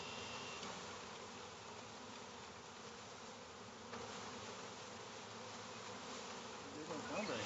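Dense, steady buzzing of a swarm of about 12,000 honey bees being dumped into a hive during hiving, a continuous close drone that swells slightly near the end.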